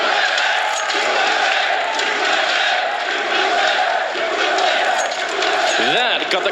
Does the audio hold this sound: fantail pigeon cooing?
no